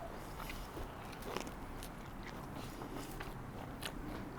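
A blue cheese, pear and walnut pizza is bitten and chewed, with faint crunchy and crackly mouth sounds spread steadily over a quiet, noisy background.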